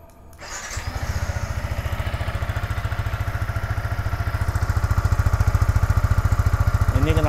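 A Yamaha XSR 155 motorcycle engine cranks and catches, then settles into a steady, close, throbbing idle with a rapid regular pulse that grows slightly louder toward the end.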